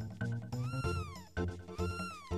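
A cartoonish video-game cat from Chrono Trigger meows twice, with drawn-out, falling synthesized cries set over steady game music, loud and close.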